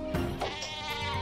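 A sheep bleats in the video game Worms Battlegrounds, one short, wavering, bright cartoon bleat that is close and clear, with no talk over it.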